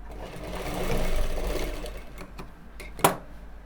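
A sewing machine runs in a steady stitching burst while a women's jacket is sewn along a folded edge, swelling then easing, followed by a few sharp clicks and a brief louder knock near the end; no one speaks.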